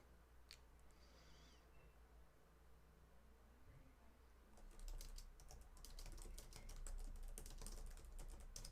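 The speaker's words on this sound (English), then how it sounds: "I'm breathing and typing." Computer keyboard typing close by, with a quiet ticking patter early that turns into dense, rapid clacking bursts in the second half, with soft breathing and no speech.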